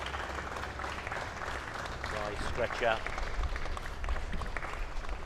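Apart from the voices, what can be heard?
grandstand crowd and players applauding injured player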